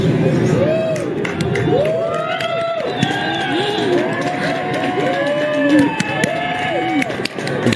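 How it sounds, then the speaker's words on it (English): An outdoor crowd cheering while watching the 2023 annular 'ring of fire' solar eclipse, a lively mix of whoops, rising shouts and excited voices overlapping at close to mid distance, with people talking throughout. "Everyone is cheering."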